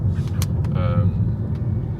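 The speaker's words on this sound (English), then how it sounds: "So just in the car now on the way to the first project." Steady low rumble of a car driving on the road, heard from inside the cabin, with constant engine and road noise under someone talking.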